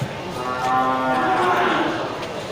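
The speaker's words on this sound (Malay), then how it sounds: "Langsung terlihat ini satu ekor sapi Bali Super" A Bali cattle cow moos once, long and loud, close by at a cattle market. The low drawn-out call fills almost the whole moment.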